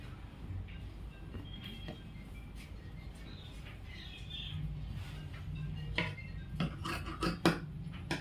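Scissors cut through blouse fabric on a tailoring table, a series of soft crunching snips near the mic that grow more frequent toward the end over a low background rumble.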